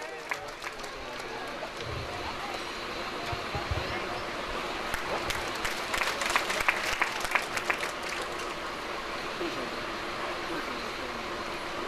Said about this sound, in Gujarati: આ સન્માનને આપણે તાળીઓથી વધાવીએ.